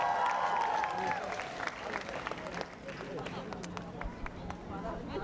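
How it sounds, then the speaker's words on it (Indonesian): Stadium crowd applauding the Timor Leste football team before a Singapore versus Timor Leste semi-final, a distant roar of clapping and cheering under commentary, with scattered sharp claps standing out. "Pasukan Timor Leste pula juga diberikan tepukan gemuruh."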